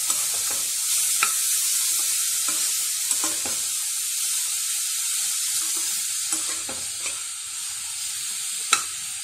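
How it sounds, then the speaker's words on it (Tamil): Grated carrot sautés in ghee for carrot halwa, giving a steady, close sizzle broken by a few light clicks and scrapes from stirring. "நல்ல வாசனை வரும் நெய்யில் வதக்கும்போது."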